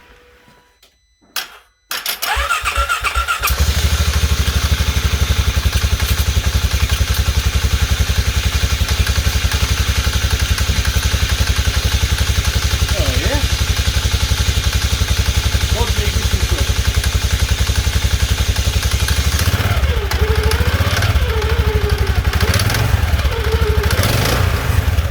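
A Polaris Ranger 570 EFI UTV engine cranks briefly, then catches and runs at a steady, loud idle for over twenty seconds, close by, with faint talk near the end.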